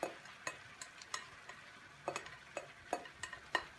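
Penne rigate pasta with shrimp being stirred in a frying pan, a steady series of sharp utensil scrapes and clicks against the pan over a soft sizzle, close and without talk.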